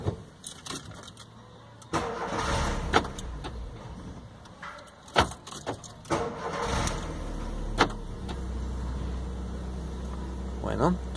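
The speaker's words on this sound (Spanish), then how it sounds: "encendemos el carro y vemos cómo funciona" Volkswagen car engine cranking and catching after exhaust muffler repair, then settling into a steady idle, with clicks and clunks from the cabin and people talking nearby.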